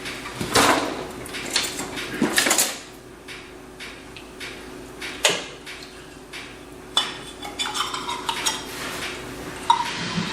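Butter and sugar being combined in a medium bowl for raisin cookie bars, heard as scattered clinks and scrapes of utensils against the bowl, with occasional louder knocks, close and otherwise quiet with no talking.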